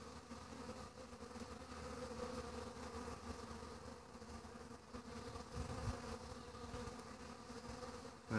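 Honeybees buzz steadily at a hive entrance, a continuous low hum from many insects with individual bees droning past now and then, quiet and close with no voices.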